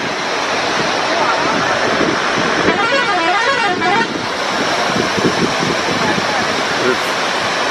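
A roaring waterfall in Nepal gives a loud, steady rush, while a bus or car horn honks in a wavering tone partway through and traffic passes close by. A voice speaks faintly under the noise.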